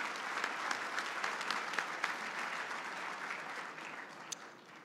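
An audience at a conference plenary luncheon applauds its sponsors: a steady, dense wash of clapping hands from a large crowd that holds evenly for several seconds without voices on top.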